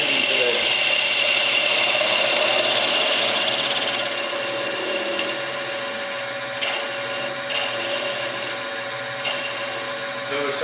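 A lathe turns an off-center wood finial, giving a steady loud whirring mechanical hum with a ratcheting, buzzing edge that runs the whole time, easing slightly partway through, with no talking.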